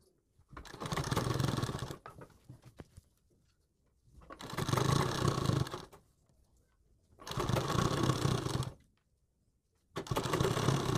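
An electric sewing machine stitches piping onto a kurti neck in four close bursts of steady whirring, each lasting about two seconds, separated by short quiet gaps.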